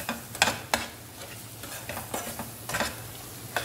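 Masala sautéing in a pan for prawn thokku, a soft steady sizzle with several sharp spoon scrapes and clinks against the pan, close and fairly quiet.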